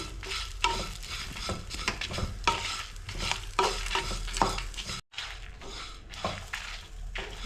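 Stuffed brinjals stirred while frying in a pan for a sesame curry: repeated scraping strokes sound close and clear over a continuous sizzle, with a short pause partway through.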